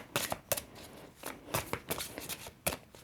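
Dream reading cards being shuffled by hand, a run of crisp papery riffles and flicks in uneven bursts, close and fairly quiet with no voices.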